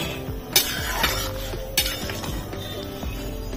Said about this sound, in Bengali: ঢাকনাটা খুলে দেখে নেব মটর আর ছোলা সেদ্ধ হয়েছে কিনা।